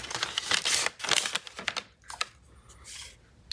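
A paper bag holding a Philips television remote control is handled, giving close, loud bursts of crinkling and rustling in uneven clusters separated by short pauses, with no talk.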